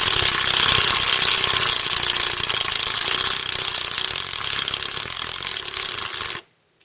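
A power driver sinks a 3-inch lag screw into a wooden rafter with a continuous rattling, ratcheting grind close by, running steadily for about six seconds before stopping suddenly.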